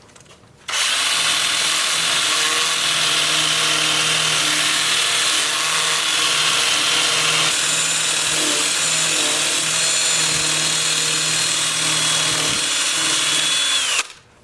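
A sanding disc works a piece on a wood turning lathe, giving a steady, loud whirring drone that runs unbroken for most of the stretch, starting and stopping abruptly, with no talking.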